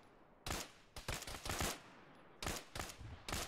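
Rifle shots from the military video game ArmA ring out in sharp, loud bursts: a single shot, then a quick cluster of two or three, a pause, then three more spaced reports over low background hiss.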